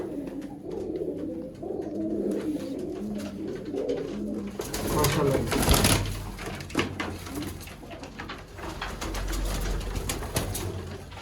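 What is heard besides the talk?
Sialkoti pigeons cooing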